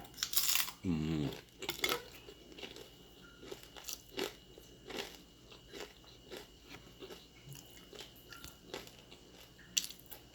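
Crunchy bites into ampalaya (bitter melon) cooked with sausage and egg, with a loud close crunch at the start followed by softer chewing and small clicks, no talking.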